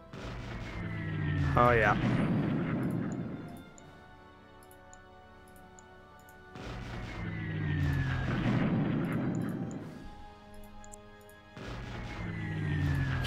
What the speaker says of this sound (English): there's going to be plenty of naval bombing going on.